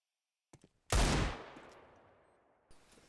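A single sharp, loud rifle shot in Counter-Strike cracks out after a couple of faint clicks, its echo decaying over about two seconds before a soft follow-up sound.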